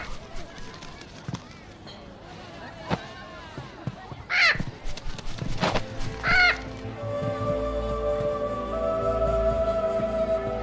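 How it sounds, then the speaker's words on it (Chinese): A parrot squawks in two sharp bursts amid a costumed xianxia drama scene, with scattered thumps and rustling before music swells underneath. "哪来的臭鸟？"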